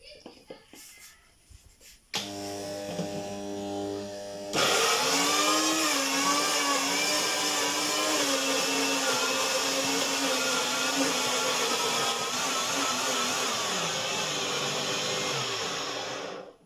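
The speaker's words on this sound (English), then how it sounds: "The grinder has been able to grind it or blend it into a very smooth form." A commercial grinder blender starts up and runs at a high, steady whine while grinding onions into a smooth paste, its loud motor drone holding for over ten seconds before winding down.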